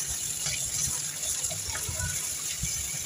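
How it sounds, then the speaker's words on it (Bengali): Leafy greens are rinsed under running water, a steady close rush and gush with irregular splashing and sloshing as the leaves are moved about. "এদিকে শাকটাও আমি ধুয়ে নিলাম সুন্দর করে"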